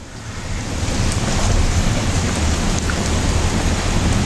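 Steady rain pours down during a thunderstorm at night, a dense, continuous hiss with a low rumbling undertone that holds at a fairly loud level throughout.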